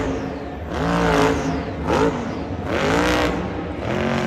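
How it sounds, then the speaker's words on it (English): A monster truck engine at high RPM, flat out and straining during a sidewall donut at a stadium freestyle event, roars loud and near in rising, surging waves with harmonic sweeps, no talk over it. "You can hear the RPMs are getting really high up. This truck is straining a lot."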